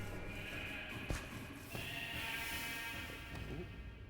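Sheep bleat faintly in an underground greenhouse in modded Minecraft. A few short bleats rise over a soft, steady background hum.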